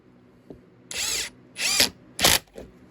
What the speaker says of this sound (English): Installing the pocket screws.